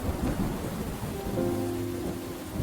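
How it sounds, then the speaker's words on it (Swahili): Heavy rain pours down steadily in a dramatized storm sound effect, a dense loud hiss with deep rolling thunder rumbling underneath throughout. "Mbinguni kulizidi kuwa giza na mvua ilianza kunyesha kwa kasi."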